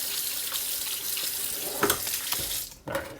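Tap water running steadily into a sink while an iPhone XR or Samsung S9 is rinsed under it, a close, continuous splashing hiss with brief shifts as the phone moves through the stream.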